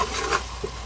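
Potatoes tossed into masala frying in a pan for aloo tahari give a brief loud, close hiss and scrape of sizzling oil, no talk.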